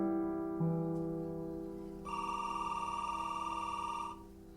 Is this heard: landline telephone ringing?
yes